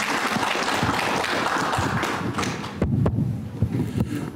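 Audience applause for the mayor at an art exhibition opening ceremony, a steady wash of clapping that fades near the end, followed by a few louder, closer thumps.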